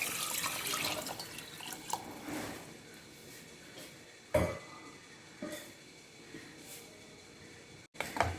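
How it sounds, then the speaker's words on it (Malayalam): Water poured from a tap into a pot of crushed black pepper, garlic and ginger in a home kitchen, a close, steady splashing stream with a few knocks of utensils. "ഇനി വെള്ളം ചേർത്ത് കൊടുക്കുക"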